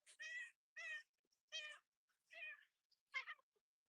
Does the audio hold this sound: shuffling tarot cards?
no